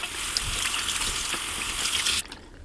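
Running tap water gushes steadily while cleansing balm is rinsed off a face at a sink, then cuts off abruptly near the end, leaving a quieter tail.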